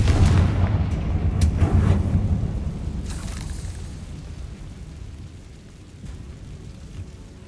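In Hogwarts Legacy, a Confringo blasting spell unleashes a deep, rumbling explosion that booms loudly and then rolls away into a long fading low roar.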